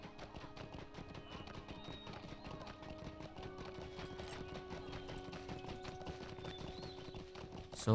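Horses' hooves clip-clop steadily in the Lord of the Rings Online game, a continuous trotting patter under low ambient tones and faint background voices.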